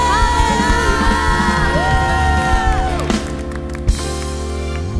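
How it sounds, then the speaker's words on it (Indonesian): A church congregation at a worship service claps and cheers, with whoops and shouts rising over sustained sung or held tones before the noise drops away near the end. "Beri tepuk tangan yang terbaik buat Tuhan"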